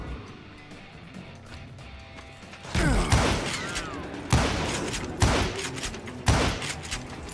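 Gunfire rings out in the Western shooter Call of Juarez: Gunslinger, four sharp, loud, evenly spaced shots with ringing tails over a quiet game background.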